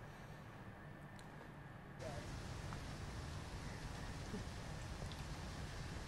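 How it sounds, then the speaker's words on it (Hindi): Steady rain falls continuously on a city street in Lahore, a soft, dense hiss that grows slightly fuller partway through, with no voices. "आज जो सुबह से बारिश का सिलसिला शुरू हुआ है और अब तक जो है वो जारी है"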